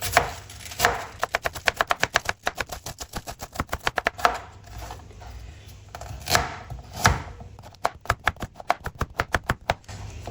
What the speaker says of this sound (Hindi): थोड़ी सी मैंने बंद गोभी ली है, जिसको कैबेज कहते हैं, इसकी भी कटिंग करेंगे